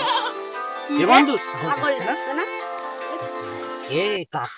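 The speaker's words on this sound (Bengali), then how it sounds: "ছাগল" A goat in a rural comedy skit about a goat thief gives a few wavering, nasal bleats, loud and close, running almost continuously through the clip, with possible human voices mixed in.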